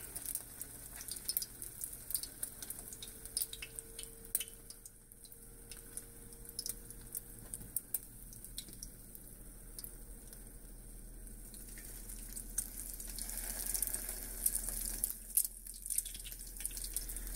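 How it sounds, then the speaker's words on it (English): Coated eggplant slices fry in a hot pan, giving a steady, moderate sizzle and crackle throughout with no talking. "And you want it to start to sizzle"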